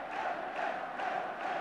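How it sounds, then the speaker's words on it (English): A Norwegian football crowd roars and celebrates in a stadium during a Norway versus England match, a dense, sustained wall of cheering with a slight rhythmic swell. "Norwegian crowd already beginning to celebrate"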